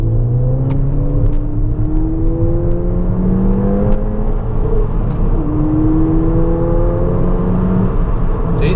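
A Mountune Fiesta ST with the MP215 upgrade is heard from inside the cabin, its engine giving a deep, throaty drone. Rising and falling tones track the revs, loud and steady throughout with no talk.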